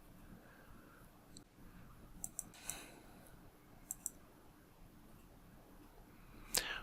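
A computer mouse gives quiet, close double clicks, two crisp paired ticks heard twice over faint room hiss, with a slightly louder click just before the end.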